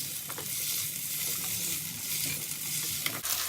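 Potatoes fry in a pan with green chillies, a soft continuous sizzle punctuated by scraping strokes of a spatula stirring them around.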